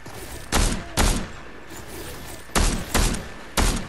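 Gunfire in the video game Fortnite: five loud, sharp bursts of shots in two clusters, each a quick crack with a short tail, over a quiet game backdrop.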